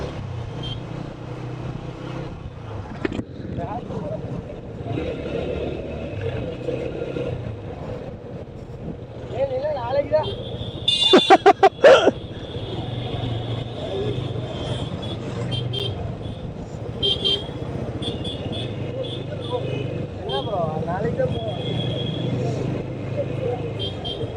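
Heavy road traffic jam stretching far ahead, heard from a motorbike during a ride toward Yercaud: steady engine and wind rumble throughout, with a brief burst of horn honks near the middle and people talking over it.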